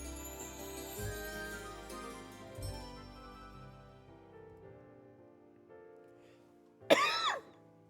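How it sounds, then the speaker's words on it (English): Soft music plays quietly, then a single sharp, loud cough bursts out near the end, close to the listener. "Big old cough right there, right in the perfect time."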